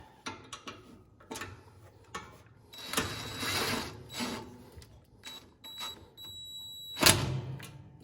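A screw is driven into the towel holder of a Blackstone storage and prep cart. Short mechanical ticks and bursts lead into a longer close whirring run, and a sharp clatter comes near the end.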